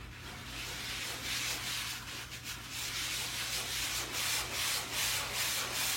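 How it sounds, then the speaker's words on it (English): A sponge sander rubs over a dried drywall mud surface in steady circular strokes, giving a continuous close scratchy hiss that swells and fades with each pass. "I get the sponge sander,"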